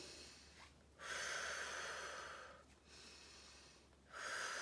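Slow, steady breaths are drawn in through the nose and pushed out through the mouth, two or three cycles, close and soft, with an airy, slightly snorting inhale and a gentle exhale, no talk.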